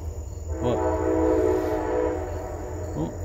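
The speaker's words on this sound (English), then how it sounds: "got the train" A train passing near water in the outdoors, with its horn sounding in a sustained blast over the continuous rumble of rolling cars and a couple of brief accented clanks.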